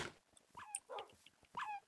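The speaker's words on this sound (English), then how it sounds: "Is your dog on fire?" A dog whimpers and yips in short high bursts inside a Minecraft UHC game, several faint cries spread across the moment amid game noise.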